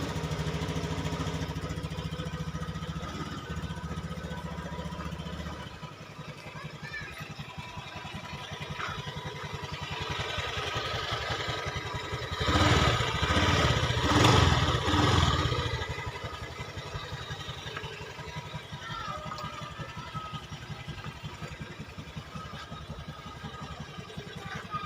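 A five-year-old Honda Scoopy ESP scooter, overdue for service, idles with a steady low engine hum and light clatter, and the engine note swells briefly midway before settling back to idle.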